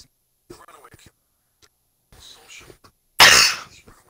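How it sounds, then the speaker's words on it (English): Soft murmured speech and a few quiet mouth sounds give way to one loud, harsh cough up close, followed by brief silence. "A cough and something."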